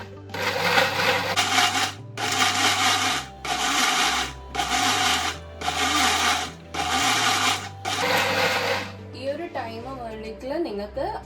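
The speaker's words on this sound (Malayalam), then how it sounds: "ഗ്രൈൻഡ് ചെയ്യാൻ പോവാണ് മിക്സിയിൽ." A mixer grinder blends peeled ripe mango pieces with sugar in its jar, whirring loudly in about seven short bursts separated by brief pauses. A voice speaks near the end.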